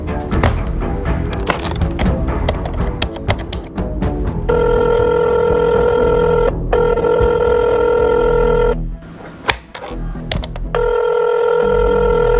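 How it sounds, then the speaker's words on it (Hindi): A telephone rings unanswered in a tense Indian gangster drama about Atiq Ahmad, a loud repeated electronic ring in long bursts with short gaps, after a stretch of clattering sounds. "फोन उठा नहीं रहा है"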